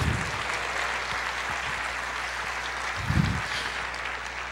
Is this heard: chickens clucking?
no